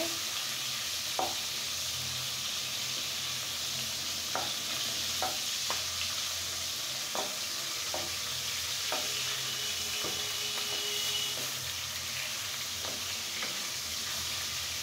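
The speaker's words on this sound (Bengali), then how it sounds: "আমি এখন সুন্দর করে মাছটাকে ফ্রাই করে নেব।" Rohu fish pieces fry in a pan with a steady, close sizzle, punctuated by scattered light clicks and pops of a utensil stirring through the oil; no one speaks.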